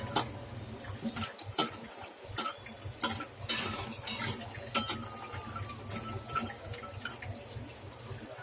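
Ladoo ingredients, edible gum and almonds, roast in a pan over a medium gas flame while a spatula stirs, giving soft intermittent scrapes and clicks with a faint steady background hiss.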